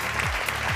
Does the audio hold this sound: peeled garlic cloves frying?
no